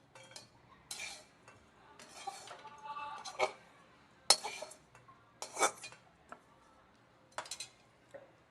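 A roasted mixture for fasting laddoos is scraped out of a metal kadhai (wok) with a spoon, producing repeated close metallic scrapes and clinks in irregular bursts.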